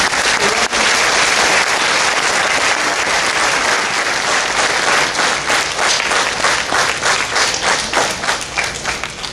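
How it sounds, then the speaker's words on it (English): Sustained applause from an audience at an elementary school graduation ceremony, dense steady clapping lasting throughout and tapering slightly at the end. "So let's please give these staff members a round of applause,"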